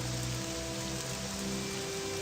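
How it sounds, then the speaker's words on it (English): Rain falls steadily in Morrowind, an even, continuous patter on surfaces with no voices, unbroken through the short stretch. "let's wait until the rain comes down, but no, it's even worse."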